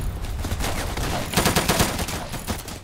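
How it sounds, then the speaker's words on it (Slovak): Rapid gunfire rattles during a video game battle between airships, dense bursts of machine-gun shots crackling close and loud with no gaps in the clatter. "Prečo strieľam po vlastných?"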